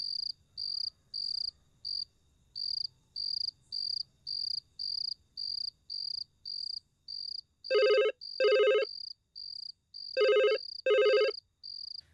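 A telephone rings late at night in a quiet home, two pairs of bright electronic trills standing out over a steady, rhythmic chirping of crickets.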